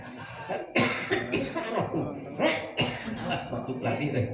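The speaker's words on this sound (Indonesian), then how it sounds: "Batuk lagi deh." A man gives several harsh, forceful coughs in bursts, close and loud, mixed with speech-like vocal sounds during a humorous Sundanese sermon.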